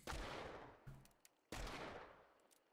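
A Scottfield Model 3 revolver in a video game, fired normally without fanning: two loud close gunshots about one and a half seconds apart, each with a long decaying echo and a faint metallic click between them.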